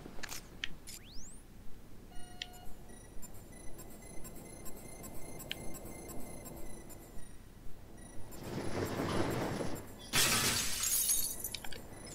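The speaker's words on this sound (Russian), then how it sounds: "Мы здорово разогнали этот ящик, и он выбил своим весом стекло." A glass window bursts apart in Batman: Arkham Knight after a heavy crate is shoved through it, a loud bright shatter of spraying shards near the end, following quieter rhythmic game tones and electronic chirps.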